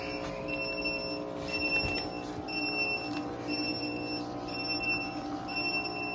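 A Growatt / EG4 home battery sounds a low-voltage alarm, a steady series of evenly spaced electronic beeps repeating over a constant hum.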